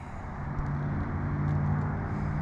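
A Harley Sportster 883 Iron motorcycle with fuel injection runs at a steady, loud, close idle, its deep engine rumble constant throughout with no other sounds over it.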